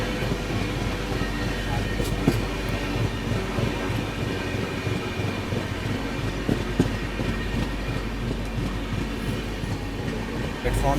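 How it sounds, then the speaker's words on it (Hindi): Gujarat Sampark Kranti Express train pulling into Godhra station, a steady loud rumble of rolling wheels and carriages with faint rhythmic clatter throughout, no pauses. "चलिए दोस्तों, हमारी ट्रेन आ चुकी है गोधरा"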